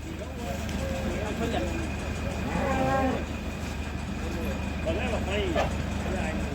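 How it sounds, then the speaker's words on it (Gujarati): Several cows in a cattle shed moo a few times at moderate distance, each call a low drawn-out bellow. A steady background hum runs underneath and people talk nearby. "આ બાજુ તબેલો હો, જો બધું ગાયો છે,"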